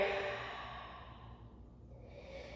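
A long, soft exhale during a vinyasa flow yoga class, held in a pose: a breathy rush that starts fairly strong and slowly tapers away, close and alone with no talk.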